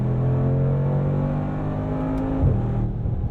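A 2022 Mercedes-AMG G63 accelerates hard, its engine roaring close and loud as the pitch climbs steadily, then drops sharply at a quick gearshift before building again.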